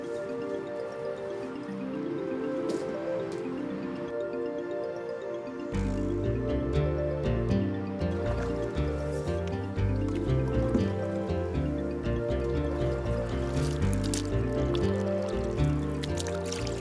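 A small yellow boat is paddled with an oar on the Metedeconk River, giving soft, repeated water splashes and trickles close by over a steady outdoor background, with no talking.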